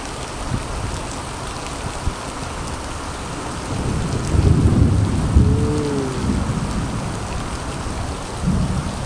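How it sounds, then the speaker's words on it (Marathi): Heavy rain pouring steadily in Bhiwandi, on the Mumbai–Nashik highway, while a deep roll of thunder rumbles through the middle, loud and close. "विजा चमकताना गडगडाट चालू आहे"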